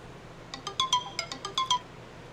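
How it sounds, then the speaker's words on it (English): A phone alarm ringtone goes off nearby, playing a quick run of bright electronic tones in a bouncy melodic pattern over quiet room noise. "That was my alarm to make sure I'm broadcasted live"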